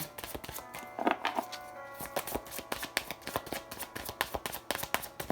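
Tarot cards being shuffled close up, a rapid series of soft riffling flicks and taps with brief pauses, no voices.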